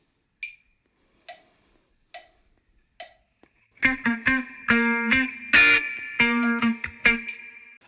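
Bar 71 of a song on electric guitar: four sharp metronome clicks count in alone, then clean plucked chords and notes ring out over the click, close and moderately loud.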